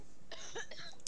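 A single person gives a short, fairly quiet cough, one brief burst of breathy noise.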